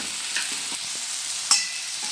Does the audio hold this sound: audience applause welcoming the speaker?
no